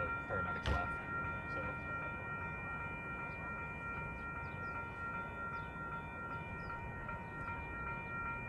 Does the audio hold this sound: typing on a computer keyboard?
no